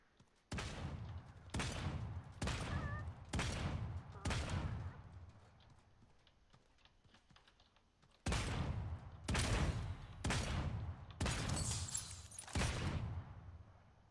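Enemy gunfire in Realm Royale, loud bursts of rapid shots in two clusters separated by a quieter gap, each burst sharp and close.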